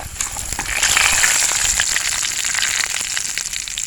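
Mustard seeds, urad dal and cumin crackle and sizzle in hot sesame oil, a loud, steady frying hiss with small popping bursts throughout, no voices.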